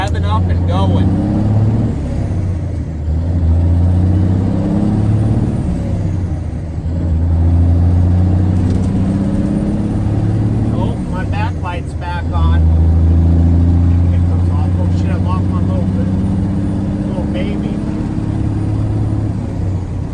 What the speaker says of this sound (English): The thing is just revving up and going.